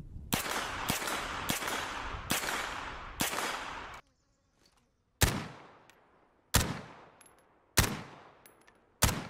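An MP5 submachine gun fires unsuppressed in short sharp bursts and single loud cracks, a rapid cluster first, then a pause and four evenly spaced reports with ringing decay.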